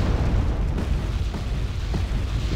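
Strike explosions pounding a group of T-80 tanks in a 4v4 strategy game match, a dense continuous rumble of booms and blasts with several distinct impacts rising out of the low roar.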